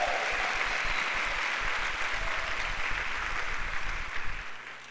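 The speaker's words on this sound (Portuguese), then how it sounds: "Quem concorda com isso, dá mais um aplauso ao Senhor aí" A church congregation at a family worship service breaks into continuous applause, a broad wash of clapping that holds steady and fades slightly at the end.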